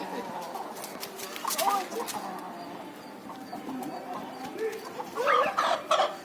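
A white chicken clucks and squawks in short, irregular bursts while being grabbed, the calls loudest and most agitated near the end, with some background voice and rustling.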